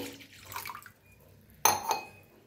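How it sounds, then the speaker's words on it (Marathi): Water splashes and sizzles as it hits a hot wok to start a sugar syrup, a sudden loud hiss after a quieter stretch of faint kitchen noise. "त्याच्यात ओतूया पाणी।"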